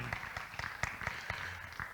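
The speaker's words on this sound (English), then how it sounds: "Another round of applause, ladies and gentlemen, for that presentation by Camille Abdul Karim" An audience at a tourism leadership forum applauds after a presentation. Fairly quiet, even clapping runs for about two seconds with some individual claps rising above the rest.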